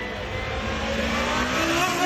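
A McLaren Solus GT track-only hypercar with a 5.2-liter naturally aspirated V10 revving, a smooth, sustained high-pitched engine wail that climbs slightly and holds steady at close range, with no speech.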